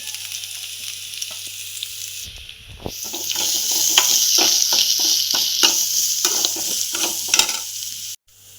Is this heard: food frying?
yes